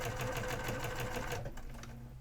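A sewing machine runs steadily during machine quilting, its rapid needle chatter close and even before slowing and dropping to a quieter hum near the end.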